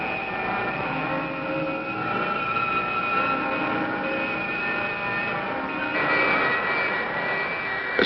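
A spacecraft engine pushes thrust with a continuous, heavy roar that carries a whining tonal hum. The sound stays steady and swells slightly toward the end.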